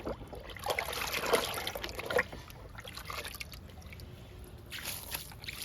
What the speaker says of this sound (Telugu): మల్లె మొక్కకి ఇస్తున్నాను లిక్విడ్ని